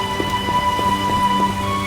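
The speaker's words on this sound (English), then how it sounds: "It's really coming down, which is funny because it's raining outside right now" Steady rain falls in The Witcher video game, a continuous close hiss with faint patters over a soft tonal game background.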